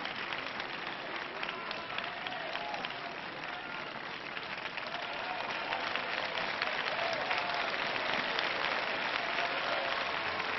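Steady applause from tennis spectators at a 1980 semifinal in Fréjus, a dense, sustained clapping crowd that swells slightly toward the end, with no voices standing out.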